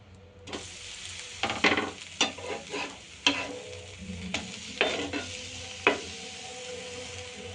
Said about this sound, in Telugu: ఇప్పుడు ఒకసారి మనం రివర్స్ వేసుకుందాం దోశ